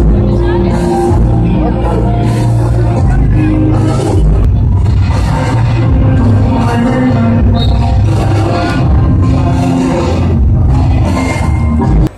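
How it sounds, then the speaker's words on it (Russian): New Year fireworks bursting from all sides over a beach in Thailand at night, a loud continuous barrage of booms and crackles with crowd noise and voices mixed in. "Салют просто со всех сторон."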